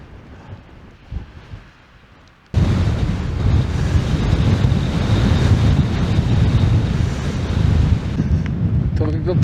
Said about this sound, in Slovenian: bo danes še tale veter nehal pihati